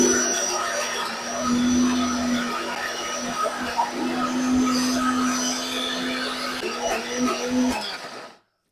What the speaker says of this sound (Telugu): ఇక దీని అయితే మిక్సీ వాడుతున్నా